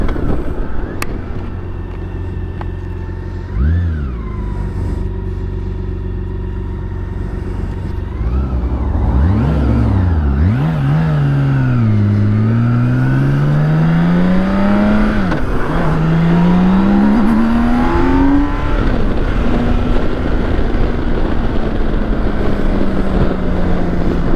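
A BMW K1600 B motorcycle's inline-six engine, canted 55 degrees forward, revs repeatedly, pitch sweeping up and down in sharp bursts, then settling into a sustained high-revving drone, loud and close.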